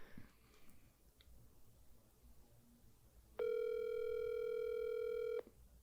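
A single steady electronic telephone tone sounds for about two seconds during a call, loud and clear after a stretch of quiet room noise.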